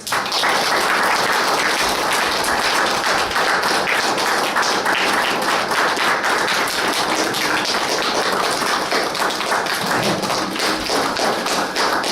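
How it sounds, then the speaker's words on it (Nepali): Church congregation claps steadily to welcome their pastors, a dense, even wash of applause that holds at full strength from start to finish with no voices over it. "हाम्रो आदरणीय पास्टरहरूलाई हामी ताली बजाएर स्वागत गर्नेछौँ।"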